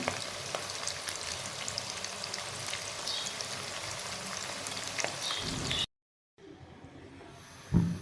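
Steady sizzling of onions browning in hot oil for aloo matar pulao, close and continuous, with a brief silence near the end before quieter kitchen sounds resume.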